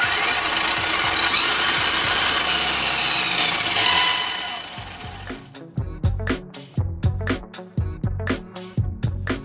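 An Arrma Kraton RC car motor screams at full speed in a loud, sustained whine that cuts off after about four seconds, followed by a series of sharp clicking, ratcheting bursts.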